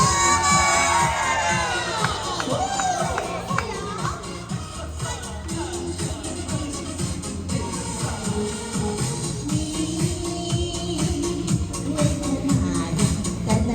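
An audience cheers, whoops and screams at a live singing show, a loud crowd roar that rises and falls over the singing and music underneath.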